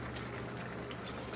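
Milk and sugar with grated carrot simmering and reducing in a pan for carrot halwa, a steady soft bubbling and hiss, close and continuous with no talk.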